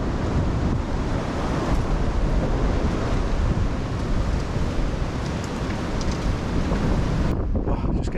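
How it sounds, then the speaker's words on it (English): Strong wind buffets across exposed, open farmland on a country park walk, a loud, steady roar that blusters against the microphone for several seconds before easing briefly near the end. "just getting a bit of a shelter from the wind there. It's quite exposed across the farmland there"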